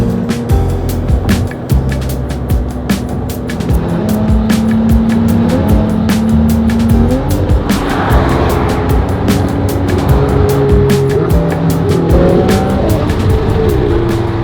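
Ferrari V6 track car of about 800 horsepower driven hard on a circuit, its engine loud and close, rising and dropping through gear changes, with tire squeal and no talk.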